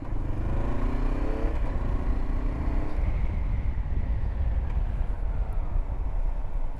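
A car passes a motorcycle, a Honda CB500X, on a dirt road, its rising engine note and tire rumble swelling close by over the bike's steady drone and wind buffeting.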